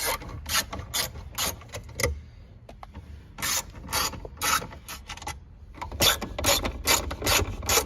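Screws being backed out of dash trim on a 2010-2012 Ford Taurus, sounding as bursts of rapid ratcheting clicks, close up, with short pauses of near silence between runs.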